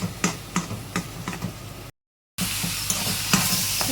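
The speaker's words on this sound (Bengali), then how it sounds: "দিয়ে দিলাম এবার এর মধ্যে টমেটোটা এবার এটাকে ভালো করে কষাতে হবে" Tomato and paneer sautéing in a pan, a steady sizzle under sharp, evenly spaced clicks of a spatula against the pan, broken by a brief silent gap before the frying resumes louder.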